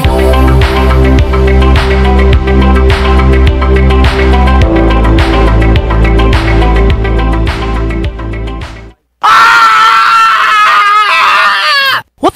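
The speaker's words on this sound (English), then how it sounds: "He loves to run around town screaming when there's a new beer release." A man screams loudly, a short burst of yelling, after music cuts off near the end.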